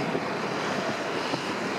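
Strong wind roars across the San Francisco waterfront at Fisherman's Wharf, buffeting the microphone in a constant loud rush with faint surf beneath, and no voices.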